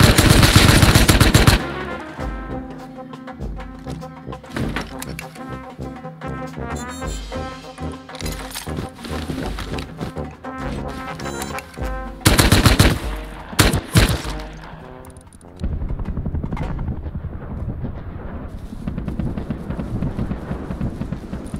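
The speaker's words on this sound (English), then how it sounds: "I'd be chasing the sounds of gunshots and the stench of gunpowder" Rapid bursts of gunfire in the Rust survival game, loud and dense with machine-gun style volleys, pausing briefly midway before a second heavy flurry and continuing shots.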